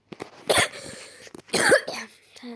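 A person coughs twice, in two separate harsh bursts about a second apart, close up and loud, during a game of 8-ball pool, with brief quieter sounds around them.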